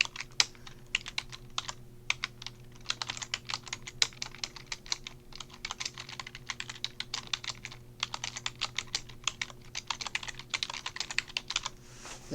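A computer keyboard is typed on continuously while an assembly instruction is entered, giving a long run of crisp, close keystroke clicks in irregular bursts with short pauses, no voices.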